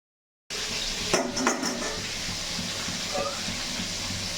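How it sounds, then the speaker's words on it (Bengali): Prawns stirred gently and lifted from a pan, a near clatter of utensil against metal at the start with a few scraping knocks, over a steady sizzling hiss that runs throughout. "হালকাভাবে নেড়ে ছেড়ে চিংড়ি মাছগুলোকে তুলে নিই"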